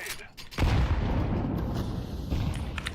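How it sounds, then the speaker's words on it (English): A grenade exploding in Counter-Strike, a loud boom that kicks in suddenly and then rumbles on with a lingering roar, preceded by brief clicks. "I'm throwing a grenade"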